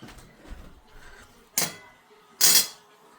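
A knife and fork are picked up, giving soft handling rustles and then two bright metallic clinks about a second apart, close and clear, with no talking.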